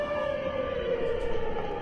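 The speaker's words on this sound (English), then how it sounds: "Air raid sirens." In the video game Vorago, an air raid siren wails loud and steady at a sustained pitch, a long droning tone that fills the scene with no speech over it.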